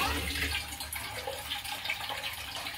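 Water pours steadily into a pot of fish being cooked, a continuous splashing rush that stays even and fairly loud throughout with no talking.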